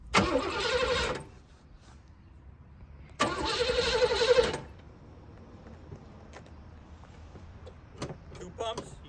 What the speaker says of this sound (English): Okay, we're gonna see if the wagon starts.